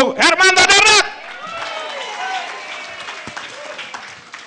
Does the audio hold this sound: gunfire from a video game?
no